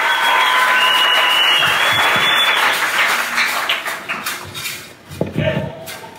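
A church congregation breaks into loud, sustained applause, a dense wash of clapping with crowd noise that fades toward the end, where a few louder claps and voices cut through.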